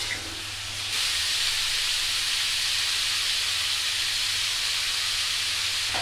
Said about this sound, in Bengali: এখন সবজিগুলো দিয়ে দেব। তো সবজিগুলো একটু ভালোভাবে ভেজে নেব।